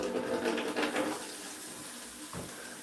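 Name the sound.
water running from a tap into a container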